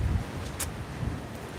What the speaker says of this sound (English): Man, the wind out here today.